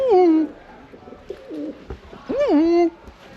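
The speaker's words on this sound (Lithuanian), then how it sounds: "Balandžiai, va, čilin." Pigeons cooing on a street in a Romanian town, several rising and falling coos at close range, with quieter background sounds between calls.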